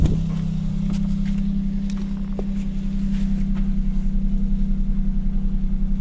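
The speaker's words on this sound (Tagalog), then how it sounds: "Nagana pa yung cold start nya." A 2013 Suzuki Celerio engine idles just after a cold start, a steady low hum with a faint regular pulsing beat, close and loud with no talk.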